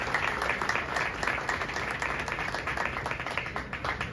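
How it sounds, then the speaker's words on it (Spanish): Applause at a trade fair award ceremony in Queens, steady moderate clapping from a crowd throughout, with no voices over it. "Un aplauso fuerte para la compañía Rica, compañía internacional del año."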